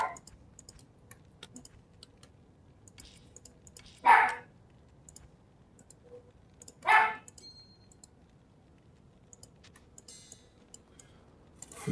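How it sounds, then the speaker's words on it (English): A pet dog barks twice in a quiet room, two short sharp barks a few seconds apart, with faint keyboard and mouse clicks ticking in the background. "Yeah, my dog."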